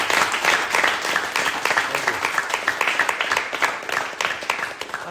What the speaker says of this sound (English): give Danny a round of applause for turning up here and giving us a great share